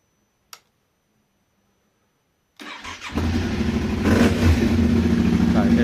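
A Yamaha Ténéré 700 motorcycle fitted with a Yoshimura exhaust starts up after a faint click and silence, then settles into a loud, close, rumbling idle that swells as the throttle is blipped.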